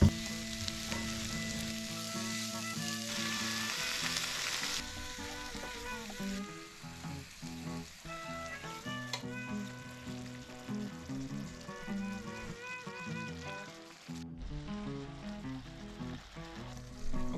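Food stir-fries and sizzles in a pan in a small, cramped kitchen. The frying hiss is loud and continuous, with stirring and clinks from utensils and no talk.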